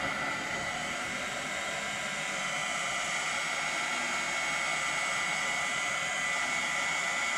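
Hair dryer blowing steadily on a cup, a constant loud whooshing airflow hiss that holds at an even level throughout with no pauses or talk.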